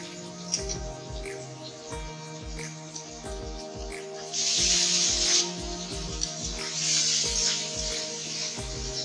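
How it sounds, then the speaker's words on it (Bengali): Cauliflower stalks go into a pan of frying shrimp and are stirred, giving a soft sizzle and hiss with repeated scraping, tapping stirs, and the frying swelling louder partway through, close and moderate with no talking. "চিংড়ি মাছগুলো সুন্দর করে নাড়িয়ে ফুলকপির ডাঁটাগুলো দিয়ে দিচ্ছি।"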